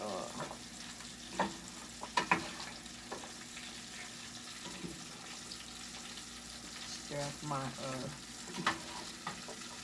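Shredded cabbage, carrots and seasoning fry in a skillet for Southern fried cabbage, a soft continuous sizzle broken by a few louder scraping stirs near the start and end, with no talking.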